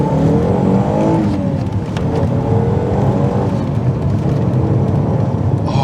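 A 2.5-litre Alfa Romeo 156 accelerates through its gears from inside the cabin, with a loud engine drone that rises in pitch, drops at each shift and climbs again.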